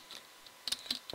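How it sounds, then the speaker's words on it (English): Soft clicking of a held shift key and repeated mouse right-clicks while playing Minecraft, several quick faint taps close to the microphone, with no voices. "Just hold down that shift key and keep on right clicking."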